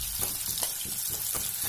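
Onion frying gently on low heat in a pan for raw mango rice, a steady soft sizzle with faint stirring scrapes repeating throughout, close and alone with no talking.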